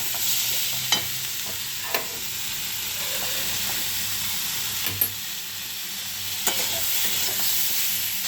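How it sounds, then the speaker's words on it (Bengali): Spices sautéed in a pan with salt, turmeric and a little sugar: a continuous close sizzle and hiss broken by several sharp spoon taps against the pan at irregular intervals. "একটু কষে নেবো।"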